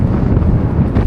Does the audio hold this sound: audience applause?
no